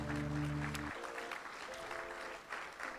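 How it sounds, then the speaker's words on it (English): A church congregation bursts into applause during a service after a held musical tone cuts off. The clapping is dense and sustained and fills the room to the end. "Can we give a round of applause for those that made a decision today?"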